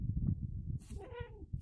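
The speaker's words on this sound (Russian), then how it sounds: "Злится на меня что-то кот мой." A house cat in a village home gives one short, fairly quiet meow partway through, heard over a low rumbling background with no one speaking.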